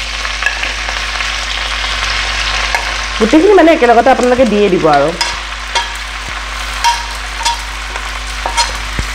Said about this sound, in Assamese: এইখিনি আপোনালোকে প্ৰথমে ফ্ৰাই কৰি ল'ব অলপ